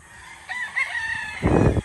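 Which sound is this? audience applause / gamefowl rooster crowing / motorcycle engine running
gamefowl rooster crowing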